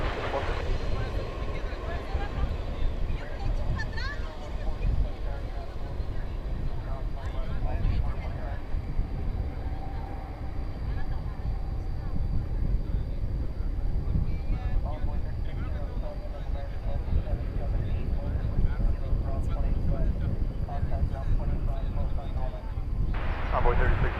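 A jet airliner taking off at night at DFW Airport, a distant steady engine roar and rumble sustained throughout, with faint background noise and no speech.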